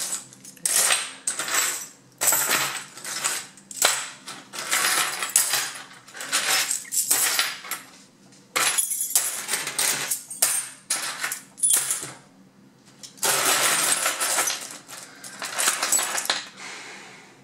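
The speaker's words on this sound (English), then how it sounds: "Here are a few keys, quite nice keys. Here's some more keys, and some more keys." Assorted metal keys handled and jingled together, bright clinking and rattling in repeated bursts with short pauses between, close and clear, no talking.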